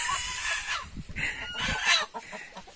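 Chickens in a coop clucking and squawking close by in several short agitated bursts, one bird calling louder than the rest.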